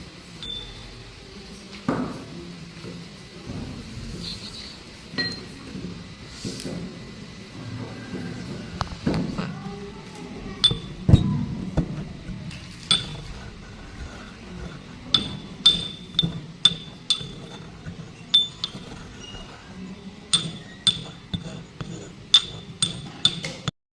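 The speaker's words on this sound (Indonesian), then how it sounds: "Kemudian satunya lagi kita gerus sampai menjadi serbuk dengan menggunakan lumpang atau alu." A mortar and pestle grinding a chemistry lab sample to powder, with repeated sharp clinks and knocks of stone and glass that grow more frequent toward the end over a low background rumble.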